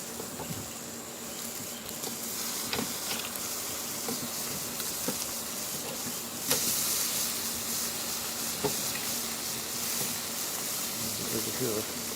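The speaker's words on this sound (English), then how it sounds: "let's cook the pork chops some more" Pork chops sizzle and fry in a pan, a steady crackling hiss with occasional pops and utensil clinks running throughout.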